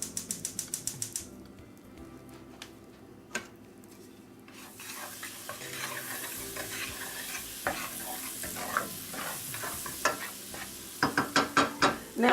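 Butter melting over medium heat in a pan for sautéed cauliflower, a soft hiss that builds into a steady sizzle, with scattered clicks and a rapid burst of sharp taps near the end.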